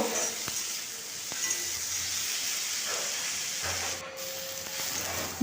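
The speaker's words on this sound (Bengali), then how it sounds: "এরপর পেঁয়াজটাকেও আমি একটুক্ষণ ভেজে নেব" Onion frying in a pan, a steady close hiss and sizzle running throughout with occasional faint stirring scrapes, no talking.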